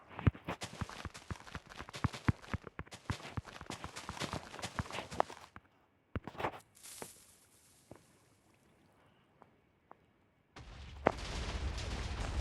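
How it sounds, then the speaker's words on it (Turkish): Explosions and blasts in the video game Minecraft, heard as a dense stream of sharp crackling pops and bangs, then a quieter gap with scattered hits and a final loud rushing burst, with no voices. "Çok büyük bir patlama."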